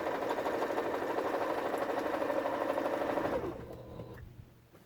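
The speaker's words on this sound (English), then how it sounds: "Sewing up and down, up and down" A sewing machine stitches a bargello quilt in a rapid, steady whirring run up close, then stops abruptly near the end, leaving quiet room tone.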